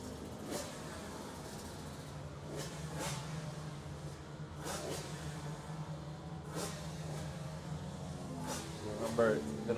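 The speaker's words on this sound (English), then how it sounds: "you hear the bikes warming up in the background" Mini bike engines warm up at the Irish Mini Bike Championship, a faint, steady buzz in the background with brief revving bursts, while commentary talks over it.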